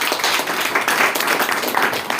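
A seminar audience claps loudly for two speakers, steady dense applause filling the whole moment without pause.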